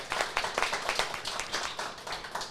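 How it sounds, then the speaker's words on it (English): Live studio audience at a morning breakfast show breaks into sustained applause, many hands clapping in a steady, dense patter that carries through without talk. "I had warned them if they don't clap that they don't get breakfast, and boom, that worked."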